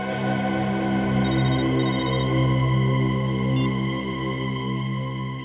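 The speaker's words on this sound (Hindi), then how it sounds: "फोन उठाओ।" A phone rings loudly and steadily in an electronic ringtone melody, repeating with no one speaking over it.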